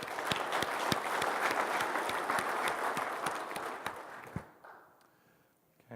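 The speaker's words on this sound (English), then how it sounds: "let's give them a round of applause again" Audience applause at a company's opening keynote conference, a dense steady clapping from a large crowd with a few sharp louder claps, fading out toward the end and leaving near silence.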